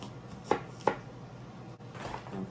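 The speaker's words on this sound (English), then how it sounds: "I'm going to try to dice this up as fine as I can" A knife dices an onion on a cutting board: two crisp, distinct chops in quick succession, then softer scraping cuts, quiet and close, with no speech.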